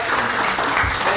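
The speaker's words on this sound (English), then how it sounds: "let's give her a really big round of applause" An audience at a community meeting with a state senator gives a round of applause, a brief, dense burst of clapping heard close and continuous.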